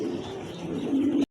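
Football pigeons coo in a low, throaty, continuous murmur close at hand, ending abruptly after about a second.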